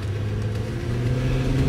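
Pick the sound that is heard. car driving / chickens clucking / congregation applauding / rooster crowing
car driving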